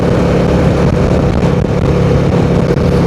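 A Harley motorcycle engine drones steadily at about 110 km/h on Route 66 in the US, with loud, constant wind and road roar throughout.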